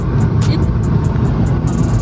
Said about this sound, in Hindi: मम्मा गाड़ी भगा रही है